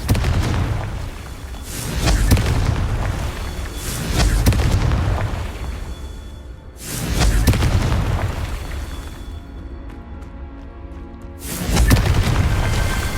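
Repeated booming fire-spell blasts from the Confringo curse in the video game Hogwarts Legacy, several heavy bursts rolling out in waves across the stretch with rumbling tails and brief quieter gaps between.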